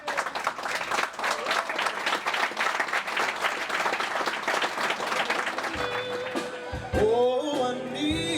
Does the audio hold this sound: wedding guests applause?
yes